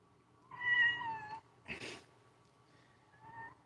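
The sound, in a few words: cat meowing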